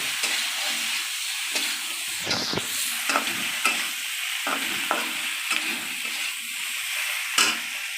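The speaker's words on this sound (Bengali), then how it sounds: "আর হলুদটা দিয়ে দিচ্ছি এটা দিলে ভালো করে ভেজে নেব" Prawns frying with turmeric in a pan for a Bengali prawn and green banana dish: a continuous close sizzle with repeated stirring scrapes and spatula knocks at a loose, irregular rhythm.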